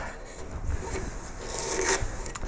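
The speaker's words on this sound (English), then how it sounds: "back to the sandpaper and the template" Sandpaper rubbing over a carved wooden koi carp, close and steady rasping strokes with a brighter, harder scrape near the end and no talking.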